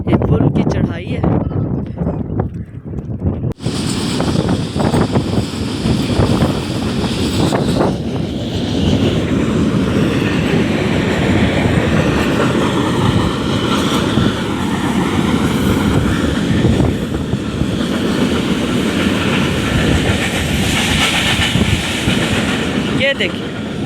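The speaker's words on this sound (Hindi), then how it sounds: "ये ट्रेन के डिब्बे जा रहे हैं खाली, नज़र आ रहे हैं आपको?" Empty train wagons rolling past near a bridge in a Pakistani village, with a loud, steady rumble and clatter that continues for about twenty seconds after an opening stretch of talk.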